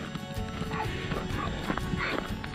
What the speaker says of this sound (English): we got a horse or a donkey over here and a barking dog